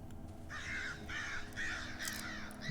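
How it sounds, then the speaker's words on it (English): Crows in the dark forest of the game Darkwood give a run of about four loud, harsh caws in steady succession, close and clear over a low ambient drone. "There's some loud crows."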